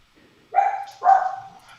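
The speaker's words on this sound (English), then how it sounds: "oh, I hear the dog again." A dog gives two short, sharp barks in quick succession, fairly close, with near silence before and after.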